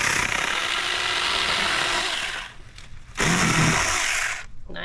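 A Saker mini electric chainsaw cutting through a branch about one and a half to two inches thick outdoors: a loud, close, continuous whining buzz that dips briefly as the cut finishes, then revs up again before tapering off.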